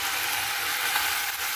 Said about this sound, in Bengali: এবার আগে থেকে কোচানো টমেটো আর লঙ্কা আমি দিয়ে দেব